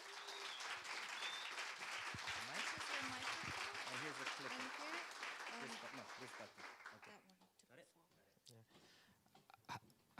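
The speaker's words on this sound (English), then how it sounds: "we need to have extra applause because he's visually challenged" An audience at a startup pitch event claps for a presenter, with dense applause over the first several seconds before it thins into scattered claps as a voice begins speaking.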